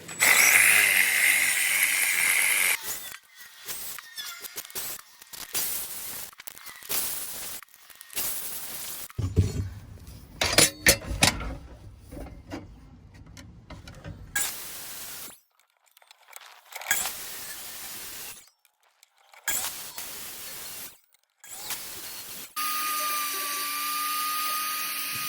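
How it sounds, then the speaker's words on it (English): Drilling holes through wood for awning washer tabs on a 4x4 Sprinter van, with bursts of drill whine interrupted by pauses, and handling clatter between them, close by. "I am gonna drill the holes for these."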